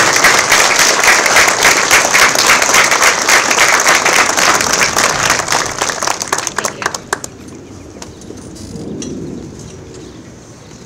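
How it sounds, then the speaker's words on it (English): A crowd at an elementary school moving-up ceremony gives loud, sustained applause that thins into scattered claps and fades out, leaving a quiet room with a faint murmur. "Please join us in giving a round of applause for our stellar Safety Patrol members."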